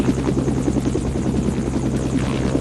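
A video game helicopter's rotor and engine drone steadily up close, a loud continuous buzzing chop with no break and no talk.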